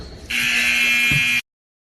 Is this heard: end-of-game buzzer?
yes